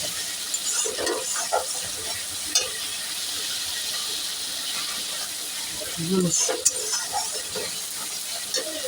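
Koi fish sautéing in oil in a pan, giving a steady loud sizzle with occasional stirring scrapes and splutters, while a person speaks over it now and then.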